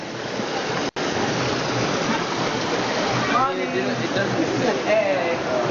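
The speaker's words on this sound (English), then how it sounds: "we'll pass the small rock waterfalls here" A small waterfall rushes in a steady broad hiss close by, while people talk faintly beneath the constant splashing.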